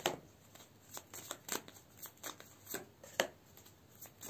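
Cards are shuffled for a tarot reading in a quick series of soft, close riffling and slapping bursts, uneven in rhythm, with no talking.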